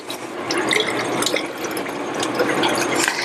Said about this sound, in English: and then I fill it up to the 1 liter mark with the water.